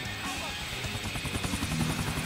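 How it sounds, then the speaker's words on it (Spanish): A helicopter in the video game GTA IV, a steady rhythmic rotor chop with a buzzing engine hum, loud and continuous throughout, with faint game sounds and voices in the background. "Muy bien, vamos en helicóptero."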